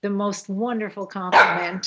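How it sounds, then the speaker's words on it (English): A dog barks once, briefly, partway through, close by and partly buried under a man's continuous speech during a recital gathering. "I'm sorry about the dog."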